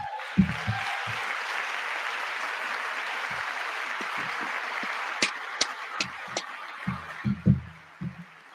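A broad wash of applause rises and holds steadily through a presidential address, with a few sharp claps and thumps standing out near the end.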